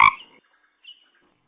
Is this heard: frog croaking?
yes